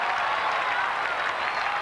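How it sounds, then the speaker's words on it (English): North Melbourne fans applauding at a 1990 AFL match against Brisbane, a steady wash of crowd clapping heard from a distance and sustained evenly throughout. "Applause from the North Melbourne fans"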